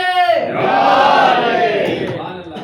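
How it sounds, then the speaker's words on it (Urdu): A crowd at a religious majlis gathering in Muzaffarnagar roars a slogan together in answer to a chant, a loud, sustained group shout rising and holding for a couple of seconds before tapering off. "نعرہ لگا کے دیکھ تو حیدر کے نام کا"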